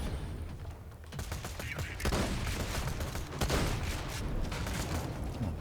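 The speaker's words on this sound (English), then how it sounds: "Oh, both of those shots missed." Repeated gunshots from Borderlands 2 combat crackle in quick bursts over a dense, noisy game soundscape, fairly faint overall with bursts clustering toward the middle.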